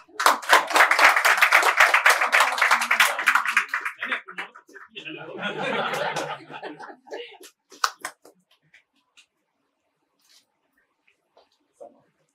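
Applause at a prize-giving ceremony for a home Ganpati decoration contest, a burst of clapping that follows an announcer's voice, then fades to a few scattered claps.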